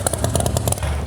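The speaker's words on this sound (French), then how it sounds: "C'est une moto, c'est une Harley." A custom-built Harley motorcycle engine runs close by, a loud, rough, rapid pulsing rumble with clattering mechanical texture throughout the short burst.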